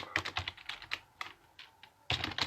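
Rapid keyboard typing in quiet bursts, clustered key clicks with a short pause before a final flurry, close and fairly soft with no voices.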